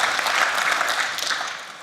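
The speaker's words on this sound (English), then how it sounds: "because we haven't applauded you yet." Audience applause from a panel event on gender-based violence, a steady wash of clapping that stays even and fairly moderate before tapering off slightly at the end.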